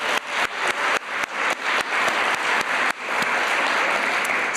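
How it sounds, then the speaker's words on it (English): Audience at a learning network summit applauds steadily, a dense sustained clapping that stays loud throughout with no voices over it. "a big round of applause for Bob Sheets and Sharon"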